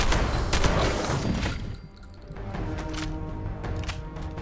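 Shotgun blasts and other gunfire in Fallout 76, loud bursts crowded into the opening second, then softer scattered shots over a steady game background.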